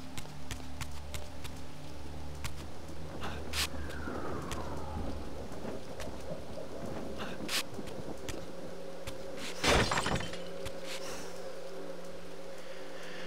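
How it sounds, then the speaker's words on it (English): Glass breaks in Legacy of Kain: Defiance, a single bright burst near the middle over a steady bed of ambient game noise, with brief clinks and chimes scattered around it. "Alright, broken glass."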